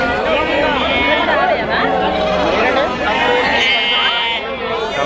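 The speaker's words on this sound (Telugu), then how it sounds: "ఇవన్నీ మాచర్ల పొట్టేలు పిల్లలన్నా" Young Macherla ram lambs bleat over and over at a busy Kunta sheep market in Ongole, a dense overlapping chorus of cries mixed with crowd chatter and voices talking nearby throughout.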